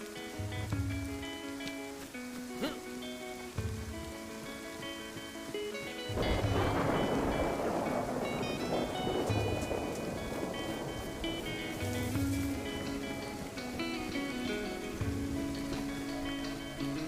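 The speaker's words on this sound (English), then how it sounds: "A torrential downpour has rolled in, accompanied by a violent thunderstorm." Torrential rain and violent thunder in the DayZ survival game, a steady loud downpour roaring throughout, swelling into a heavy rumbling thunder burst midway, with game music tones layered over it.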